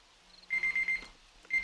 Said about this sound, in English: Shut up, alarm.